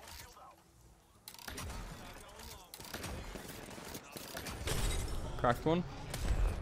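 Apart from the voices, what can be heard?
covering gunfire in video game Apex Legends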